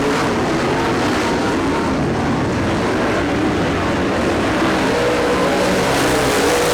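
Dirt track race cars, likely late models, roar together at a steady high pitch for several seconds in a continuous wall of engine noise late in a feature race.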